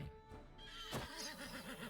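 A horse in the video game Wartales lets out a single loud whinny with a wavering, trembling tail, close by and alone.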